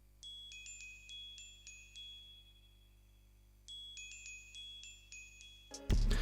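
A soft, bright glockenspiel melody in triplets rings in two repeated phrases of clear chiming notes, quiet and alone, ending with a brief louder burst.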